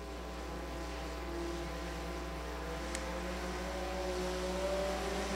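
Stock race cars at Willard Speedway roar steadily as the pack races side by side under green, a dense, continuous engine drone with layered tones and a low constant rumble throughout.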